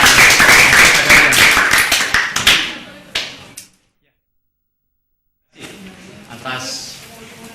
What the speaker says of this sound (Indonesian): Tepuk tangan dong untuk hasil kerja kalian sendiri